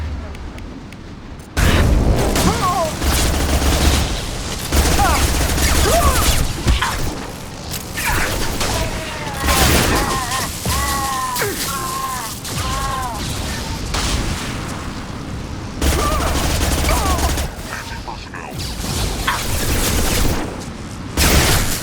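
Heavy weapon fire in the sci-fi shooter Mass Effect 2, loud booming blasts and crashing bursts over about twenty seconds, with voices calling out between the shots.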